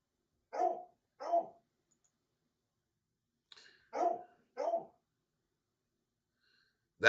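A dog barks four times, in two pairs of sharp barks with a pause between them. The barks are fairly close and carry no talk over them.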